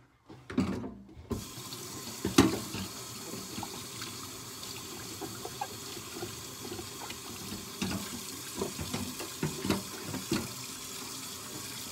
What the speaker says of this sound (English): I'm just trying to clean out this sink here